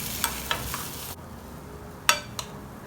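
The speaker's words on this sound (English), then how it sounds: "Once the potato is coated well with masala, add salt to taste, mix it well" Potato pieces being mixed with masala spices in a pan for vada pav filling, a soft continuous sizzle with a few sharp scraping clicks of the spoon against the pan, then quieter sizzling with two more clear scrapes.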